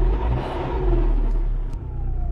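A Chrysler Sebring 2.0 CRD Limited Edition diesel engine revs up, a loud close rising engine whir with steady low rumble, running alone without talk.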